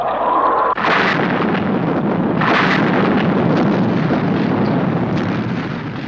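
Missiles fire to clear a nose cone in a Thunderbirds rescue, giving a loud, roaring blast that starts sharply, surges again a couple of seconds later and sustains as a heavy rumbling whoosh.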